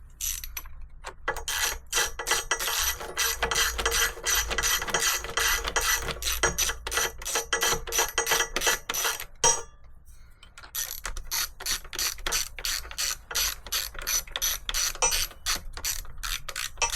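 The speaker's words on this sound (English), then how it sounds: "Oh, now we need a ratchet." A ratchet wrench clicks in steady, rapid bursts while fitting a filter housing and breather pipe on a Wacker Neuson VP1030 plate compactor, with a short pause midway before the close, loud ratcheting resumes.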